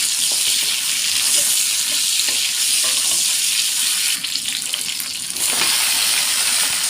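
Hilsa fish heads frying in oil with whole cumin seeds and crushed garlic, plus green chillies and potatoes, make a loud, steady sizzle that runs the whole time with small stirring clatters. The sizzle dips briefly near the end.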